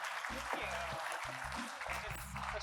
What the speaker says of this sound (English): So a big warm applause for Sara Yood.